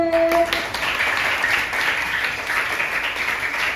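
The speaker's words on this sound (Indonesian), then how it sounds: "Beri tepuk tangan untuk kelompok 1." Classroom applause for a student group, with the class clapping in a steady, dense patter that stays even for a few seconds after a short tone at the start.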